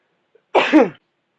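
A single sharp burst of breath from a person, close and fairly loud, lasting under half a second before silence returns.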